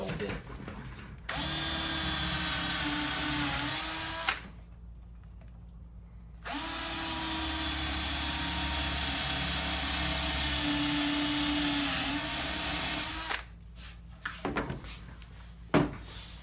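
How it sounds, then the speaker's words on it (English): A power drill with a poor-quality bit runs in two long, steady bursts with a short pause between, loud and close, drilling a sculpture armature base, followed by a few clicks and knocks. "crap drill bit"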